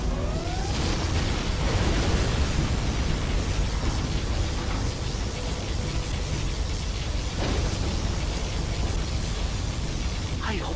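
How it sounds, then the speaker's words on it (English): Particle cannon blast in the video game Command & Conquer Generals Zero Hour, a loud sustained roaring rumble with crackling debris that fills the whole stretch, with swells near the start and middle. "Particle cannon activated."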